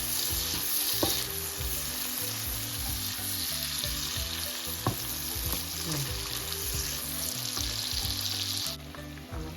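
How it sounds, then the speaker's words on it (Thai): Food frying in a pan at home for an evening meal sizzles steadily up close, with a dense crackling hiss and occasional stirring clinks throughout. "ทอดให้มันได้ที่ก่อน"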